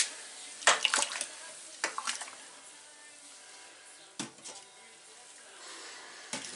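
Twenty litres of brew mash get stirred in a homebrewing kettle, giving a few separate watery sloshes and splashes that rise sharply and fade, with quiet gaps between them.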